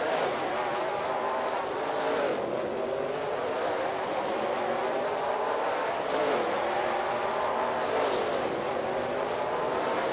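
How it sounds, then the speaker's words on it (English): Racing cars powered by an AI racing game engine on a dirt speedway, a steady broadband engine roar with several cars sweeping past in waves around the track, continuous and fairly loud with no talking. "we continue watching these R-powered racing cars zoom around the track"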